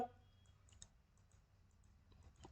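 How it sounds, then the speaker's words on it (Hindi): A few faint, crisp computer mouse clicks, spaced irregularly and heard close up in a quiet room during web development work, with light keyboard-like ticks among them. "गैलरी पे क्लिक किया"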